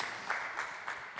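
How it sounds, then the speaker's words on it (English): A small conference audience at a tech talk gives a brief patter of scattered clapping, quiet and fading quickly. "Caleb, that was your point in time where you had to cheer"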